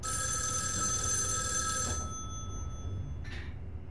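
Steady ringing of a telephone bell inside a horror video game, loud and continuous for about two seconds before cutting out, leaving a low droning ambience with a faint brief tone near the end.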